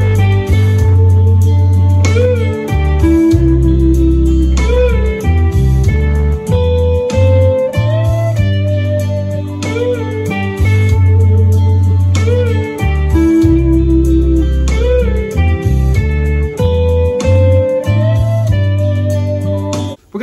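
Electric guitar plays the melody lick, a steady, loud run of sustained single notes and bends with backing accompaniment, with no talking.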